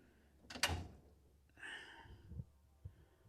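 A drawer on a US General 56-inch Series 2 tool box slides open with a short rolling rumble, then a second, longer slide follows with a faint knock at the end. Both are close and quiet, with no voices.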